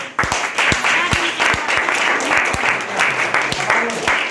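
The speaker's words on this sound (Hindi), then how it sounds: "सब बच्चे ताली बजाओ इसके लिए जोरदार।" A group of children at a vaccination camp claps loudly, the dense applause punctuated by sharper individual claps, with voices audible beneath it.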